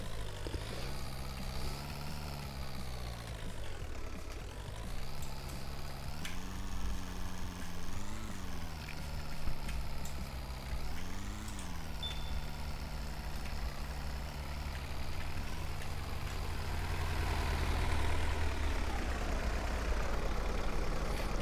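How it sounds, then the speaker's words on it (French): A truck engine in a Roblox driving game runs for a long stretch, a steady low drone whose pitch rises and falls with the revs, with hissing noise building near the end. "il veut pas faire marche arrière mon camion"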